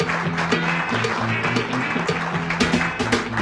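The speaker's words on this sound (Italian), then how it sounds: "Oh, che bell'applauso! Che bell'applauso!" An outdoor crowd at a cyclocross race in Fae' di Oderzo applauds with dense, sustained clapping that holds steady and loud throughout, with a few louder claps standing out.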